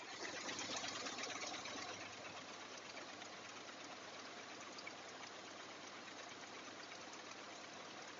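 Ford F-150 pickup engine idling after a throttle body cleaning, a steady, even running drone that holds at the same level throughout with no voices.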